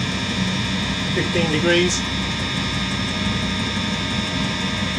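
A rebuilt Eberspacher D9W diesel heater runs with a steady roaring hum and a faint exhaust leak, while a person talks briefly over it.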